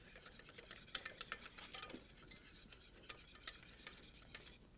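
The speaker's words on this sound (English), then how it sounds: "with your wire whip, reaching all over the pan so that you blend the flour and the roux and the liquid together" A wire whip stirs flour, roux and hot milk in a pan, making soft, fairly quiet scraping and ticking strokes in an uneven rhythm, with no voices over it.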